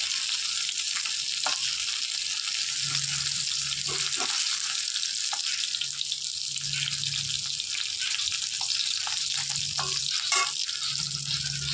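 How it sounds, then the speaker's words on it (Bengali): Fish frying in leftover oil previously used to fry pointed gourd, producing a steady, close crackling sizzle that runs without a break, with faint scattered pops and light clinks on top. "ওই তেলের মধ্যে আমি মাছটা ভাজা করে দিচ্ছি"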